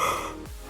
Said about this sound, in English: Oh God, I'm going to yawn again.